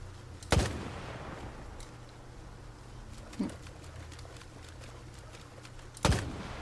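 Gunfire in the video game S.T.A.L.K.E.R. 2 rings out as three separate shots spaced a few seconds apart, each a sharp loud crack with a short tail over a quiet ambient backdrop.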